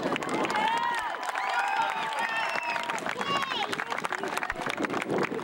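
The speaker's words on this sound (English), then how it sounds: "let's have a round of applause for our senior cheerleaders" Crowd in the stands applauding senior cheerleaders at a high school football Senior Night, scattered clapping and cheering under loud crowd chatter and whistle-like shouts, with people talking throughout.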